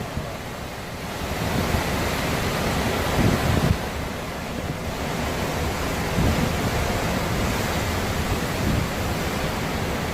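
Pounding waves and storm surge driven by strong wind ahead of a hurricane crash near a seawall, a loud continuous roar of surf and wind buffeting the microphone with swelling surges.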